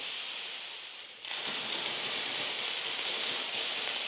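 A steady, loud hiss of steam bursting from the nozzle of a McCulloch MC1385 steam cleaner purging excess water, briefly dipping then surging back stronger and continuing without a break.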